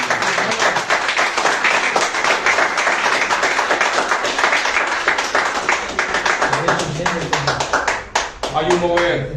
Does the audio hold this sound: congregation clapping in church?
yes